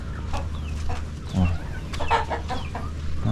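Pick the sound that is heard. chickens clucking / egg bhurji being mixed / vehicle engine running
chickens clucking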